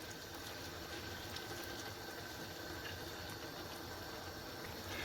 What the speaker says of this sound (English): So I'm just going to let that heat up. That's come into the boil.